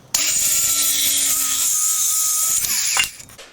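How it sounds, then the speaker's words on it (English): A Ryobi 18-volt saw fitted with a 24-tooth wood-cutting blade whines at speed through wood, starting abruptly, holding a steady loud cut for about three seconds, then spinning down to quiet. "this was just a 24 tooth wood cutting saw blade on my Ryobi 18 volt"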